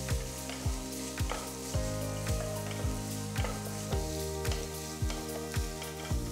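Onions and green chillies sizzle steadily in hot oil while making paneer bhurji, with a regular scraping of a spatula stirring the pan about twice a second.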